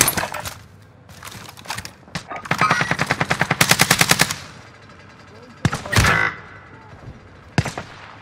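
Rapid bursts of automatic gunfire in a military shooter video game, loud and close with a dense rattling stretch in the middle and sharper isolated shots later, with faint talk underneath.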